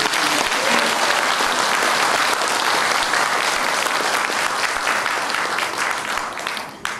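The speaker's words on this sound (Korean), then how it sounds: "다시 한번 큰 박수 부탁드립니다." Loud, sustained applause from a large crowd at a chapel dedication ceremony in Naju, South Korea, holding steady for about seven seconds before starting to fade at the end.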